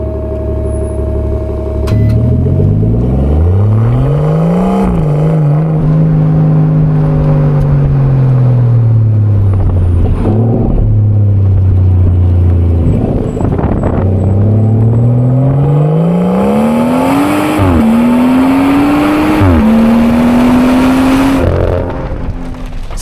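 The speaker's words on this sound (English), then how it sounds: "the rumble of this V12 is actually so prominent" A BMW M760Li 7 Series's deep V12 exhaust rumbles loudly and continuously, its pitch climbing and falling as the engine revs up and settles again.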